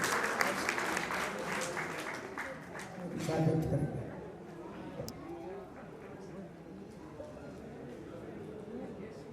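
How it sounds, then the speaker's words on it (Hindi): Audience applause at a Jain ceremony honouring a young woman taking renunciation, a broad wash of clapping that swells in the middle and then thins, with crowd murmur and voices underneath throughout. "हम सब की ओर से तालियों की गड़गड़ाहट के साथ ही अभिनंदन करना चाहिए"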